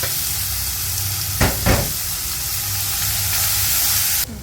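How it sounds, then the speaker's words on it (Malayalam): Chopped onions hitting hot oil with green chillies and spices, a loud continuous sizzle with a couple of sharp stirring bursts partway through before the sound cuts off abruptly. "ഇനി നമ്മൾ ചോപ്പ് ചെയ്ത് വെച്ചിരിക്കുന്ന ഒലിയും ചേർത്ത് കൊടുക്കുകയാണ്"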